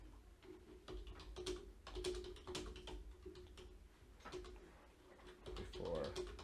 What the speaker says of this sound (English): I can't talk and type at the same time, so forgive me.